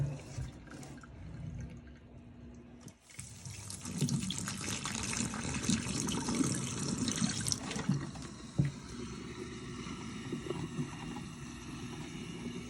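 Vinegar pours and gurgles down a clogged drain onto baking soda, followed by a steady fizzing hiss of bubbling that continues on its own with no talking.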